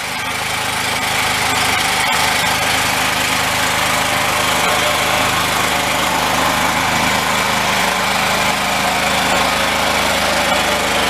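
An engine running on a charcoal gasifier fed with wood chips idles loud and close with a steady, even drone, warming up and holding stable with no talk over it.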